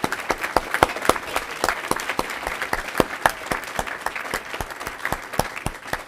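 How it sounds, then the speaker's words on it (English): At a school district board meeting, a modest audience claps for students and their teacher, distinct individual hand claps ringing out in a quick, uneven patter that stays fairly steady throughout. "let's give these students and Mr. Hill a round of applause"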